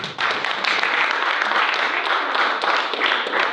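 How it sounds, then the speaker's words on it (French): A conference audience at a talk on video games and criminal cases gives an energetic round of applause, steady dense clapping with crisp individual claps, close and continuous for a few seconds. "vous pouvez l'applaudir"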